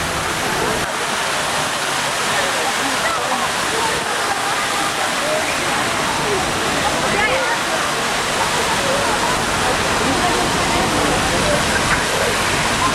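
A fountain with dolphin sculptures sprays water in a steady, close rush of splashing that fills the whole stretch without pause.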